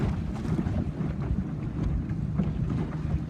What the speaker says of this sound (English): There's more wind on this side.